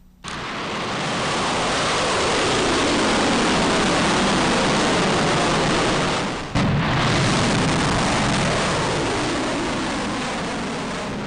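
Missile units fire live ammunition during a military exercise: a sustained, roaring blast of rocket launches, broken by a sharp second burst midway, loud and dense, with no voices.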